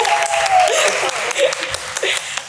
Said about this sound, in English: Can we just give her a round of applause for that?